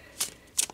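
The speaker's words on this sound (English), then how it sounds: "let's take a shuffle" Tarot cards give two quick, crisp snaps about a third of a second apart, close and moderately loud against a faint background hiss.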